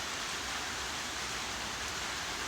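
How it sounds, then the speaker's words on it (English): Steady rain pours down outdoors as a constant, even hiss of drops with no pauses, fairly loud and close, with no voices over it. "yeah, it's raining"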